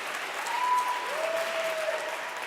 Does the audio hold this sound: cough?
no